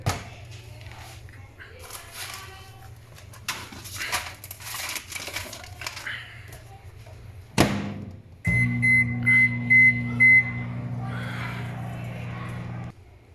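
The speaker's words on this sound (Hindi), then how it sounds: "मैं बनाऊंगा माइक्रोवेव पॉपकॉर्न।" Rustling and handling noises, then a microwave making popcorn hums steadily with a few beeps, while people talk nearby.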